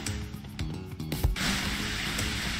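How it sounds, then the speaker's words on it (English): A fire hose sprays water onto fires in the Wobbly Life video game, a steady broadband hiss that surges louder midway and keeps rushing on without talk. "I need to keep spraying this"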